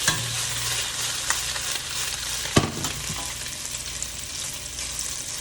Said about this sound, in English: I'm only trying to sear all around the meatball